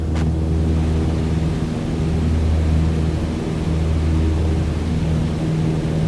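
Steady propeller engine drone of a light aircraft in Microsoft Flight Simulator, held at 2,300 RPM cruise power in level flight at 5,500 feet; a loud, continuous hum with a low harmonic throb and no voices.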